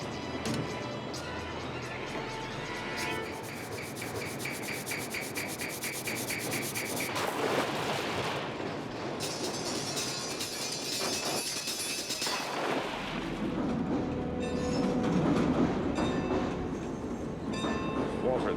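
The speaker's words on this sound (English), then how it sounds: "the sound of an elevated train as opposed to a train that's running along the ground" A Chicago elevated 'L' train runs along raised track, a loud continuous metallic rumble with grinding, rubbing wheel noise and rhythmic clatter that swells and shifts over the whole stretch, with no talk.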